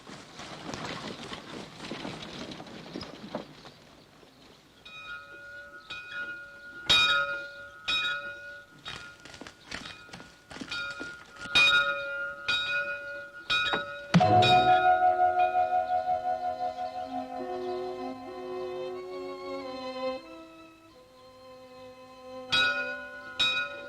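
A church bell rings for Sunday school in a 1956 Australian film. After a noisy start, ringing strikes come at uneven intervals, some loud and overlapping, with a long decaying tone and more peals near the end.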